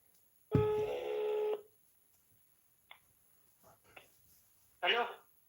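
Telephone dialing tones while placing a call: one steady, fairly loud electronic tone lasting about a second, then faint clicks and a short noisy burst near the end.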